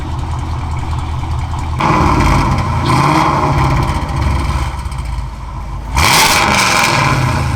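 A Camaro engine revs through a new X-pipe exhaust with the valves open: loud, throaty blasts that rise and hold, dip back toward idle, then surge again sharply near the end, close up.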